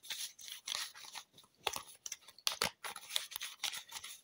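A deck of tarot cards is shuffled close up, giving quiet, irregular bursts of riffling and sliding card rustle with short pauses between.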